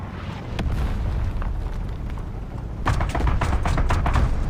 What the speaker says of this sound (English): SPAA shooting at me in the back.